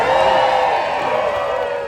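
A large live audience at a gathering of musicians from Mississippi cheers and whoops loudly, with a dense, steady roar of many voices that lasts throughout.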